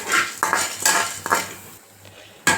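Chana dal roasting in a dry pan for a chutney, a metal spoon clinking and scraping against the pan in several sharp strokes with quiet gaps between, close by, no voices.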